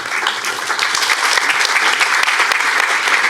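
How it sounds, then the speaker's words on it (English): A theatre audience at a film screening Q&A gives a dense, steady round of applause, loud and continuous throughout the short stretch. "Another round of applause for the film and the screenwriter."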